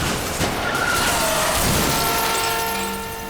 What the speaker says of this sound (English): The car crashes.